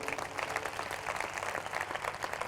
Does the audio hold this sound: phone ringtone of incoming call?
no